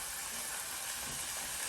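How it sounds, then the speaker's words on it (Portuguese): Rice and garlic fry in melting lard, producing a steady, close, broadband sizzle that hisses evenly throughout, with no voices over it. "Aí aquela banha vai derretendo e o alho vai fritando junto com o arroz"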